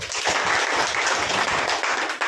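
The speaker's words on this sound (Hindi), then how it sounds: "एक बार तालियां बजाओ अपने लिए" An audience at a Hindi-language talk claps for itself: a brief burst of many hands clapping together, steady and fairly loud throughout, with no one speaking over it.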